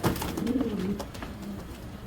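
Girbaz pigeons coo in low, throaty rolling phrases at close range, a soft pulsing murmur that carries through the short stretch without any talk.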